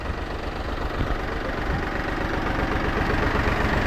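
A tractor engine idles nearby, a steady low rumbling chug with even, rapid knocking pulses, loud and continuous for the whole stretch with no talking.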